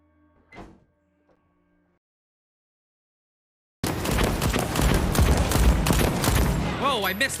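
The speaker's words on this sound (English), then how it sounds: "Whoa, I missed all those shots." Near silence with a faint early click gives way to a sudden, loud burst of rapid gunshots in the video game Road to Empress I, continuing densely for several seconds, with a voice rising over the firing near the end.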